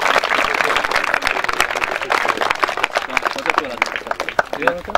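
Lively crowd applause for children at a Real Madrid football camp closing ceremony in Rotenturm, rapid uneven clapping carrying on for several seconds with voices mixed in underneath.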